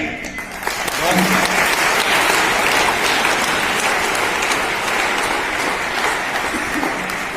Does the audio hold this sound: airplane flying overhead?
no